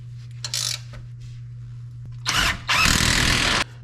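A power tool tightens bolts on a newly installed steering damper during drag link replacement, giving a short whir then two louder mechanical bursts, the last about a second long, close by with no talk.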